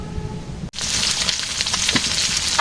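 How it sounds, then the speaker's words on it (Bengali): Fish sizzling as it fries in a pan in a village kitchen, a loud, dense crackle that starts abruptly after a short quieter moment and continues steadily close to the microphone. "মাছ ভাজি প্রায় শেষের দিকে"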